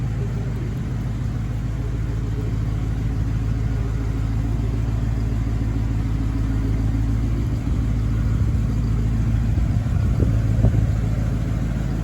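A Cadillac Seville Elegante engine runs while the car drives, giving a steady, loud, low rumble that continues evenly throughout with no voices.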